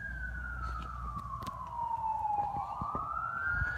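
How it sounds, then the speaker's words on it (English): An ambulance siren sounds while arriving at a fire scene, one long wail sweeping down and then climbing again. It stays moderately close and loud over a rumbling bed of traffic and engine noise. "Oh god, the ambulance are coming."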